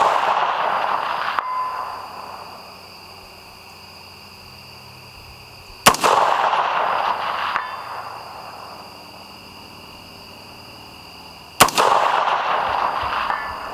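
Three rifle shots ring out at steel targets around dusk, each a sharp loud crack spaced about five seconds apart, followed by a long fading echo.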